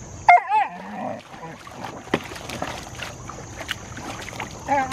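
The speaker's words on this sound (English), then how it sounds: "he's starting to bark and whine about it" A puppy Alaskan Malamute yelps and whines in a few high, wavering bursts near the start and end, with scattered quieter barks and rustling in between outdoors beside a baby pool.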